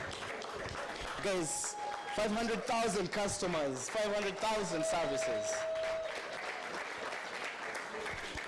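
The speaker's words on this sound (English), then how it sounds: "A hand clap for Julian." An audience claps for Julian at a Rwandan youth affordable-housing event, the clapping sitting underneath a speaker who keeps talking loudly over it throughout.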